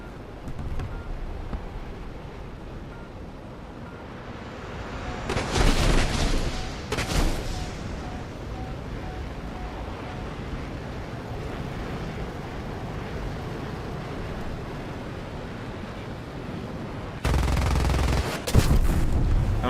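An aircraft cannon on an F-5E strike fighter fires in War Thunder during a ground attack run, giving short loud bursts over steady engine and wind noise.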